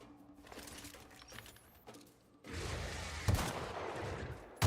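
A burst of gunfire in The Outer Worlds erupts after a quieter stretch, loud cracking shots with one sharp peak and a final report at the end, over game ambience.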